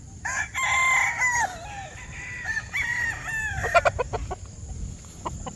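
A Boston roundhead chicken crows loudly nearby, its long wavering call followed by a shorter second crow, then some clucks and scuffling noises around a farmyard.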